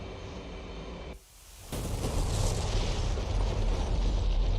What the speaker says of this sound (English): I'm gonna watch my bomb hit these targets.